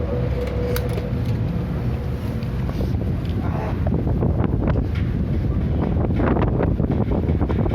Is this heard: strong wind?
yes